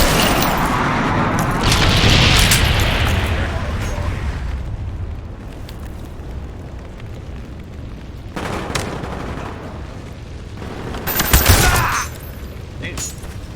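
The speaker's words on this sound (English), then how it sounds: "Friendly napalm strike on the way." Napalm strike explosions in the video game Black Ops, a loud rolling rumble of blasts that swells, fades and then returns with fresh bursts, with scattered gunfire over a dense, sustained roar.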